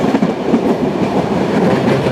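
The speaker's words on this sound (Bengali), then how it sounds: "ট্রেনটা সজোরে বেরিয়ে গেল" A through train rushing past at speed, loud and close, with a continuous rumble and rhythmic wheel clatter.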